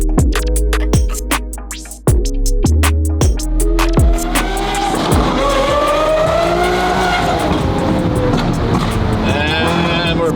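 A car starts up with a series of sharp engine revs, then pulls away loudly as the tires squeal and the engine climbs through its gears in a close, continuous roar.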